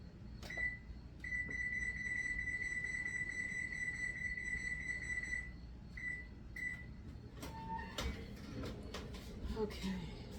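A kitchen oven being set to 450 gives a long, steady electronic beep followed by a few shorter beeps, amid quiet kitchen clatter and faint background noise.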